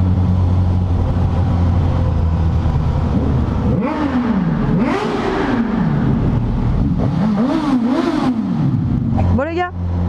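Engine of a 2021 Suzuki GSX-S1000 motorcycle revs up and down in several rising and falling sweeps over a steady idle, loud and close, with a final sharp blip at the end.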